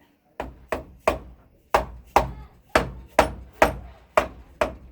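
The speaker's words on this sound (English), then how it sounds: "You can also take your mallet" A mallet taps around an engine crank during reassembly of a KE102 engine, about ten sharp, evenly spaced knocks, close and loud, with short quiet gaps between them.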